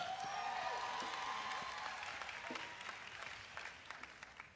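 Audience at a convocation ceremony applauding, a dense wash of clapping from a large crowd that slowly thins and fades out, with a few cheers mixed in.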